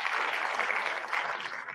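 Soundboard hand-clap effect imitating an audience's applause, a steady patter of many claps lasting under two seconds, moderately loud and alone.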